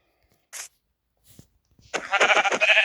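A couple of short, sharp Minecraft sheep bleats, then a longer, wavering bleat, with quiet gaps between them.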